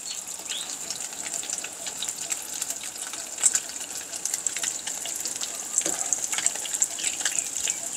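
Thai fish cakes of mixed fish and mulberry leaves frying in oil over medium heat, a steady close crackling sizzle with scattered pops throughout, no voices.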